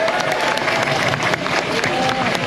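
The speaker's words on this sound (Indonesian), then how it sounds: "Tepuk tangan untuk Pak Haji Sarjan." An outdoor crowd claps for a named contractor at the inauguration of a widened toll exit on Kali Gabus Raya, Bekasi: steady, dense clapping mixed with crowd murmur, continuous and fairly close, throughout.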